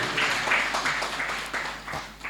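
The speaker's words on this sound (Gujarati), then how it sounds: "તાળી પાડીએ આપણે હાલેલુયા." Church congregation clapping in rhythmic bursts, a steady patter of many hands at moderate distance lasting a couple of seconds.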